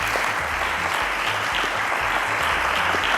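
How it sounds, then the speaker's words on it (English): A studio audience applauds a contestant on a televised quiz show, a dense, steady wash of clapping at even strength throughout, with a low hum underneath and no talking. "Let's give him a round of applause, ladies and gentlemen"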